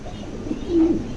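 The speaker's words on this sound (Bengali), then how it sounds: "অনেক অনেক বড় সাইজ বিগ সাইজের কবুতর এটা কবুতরই" A pigeon coos close by, a single low, throaty burble rising briefly above a quiet background.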